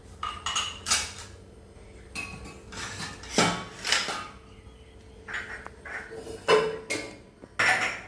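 Dishes and a saucer clatter in a home kitchen while tea is served, with repeated sharp clinks and knocks in bursts, fairly close, and no talking.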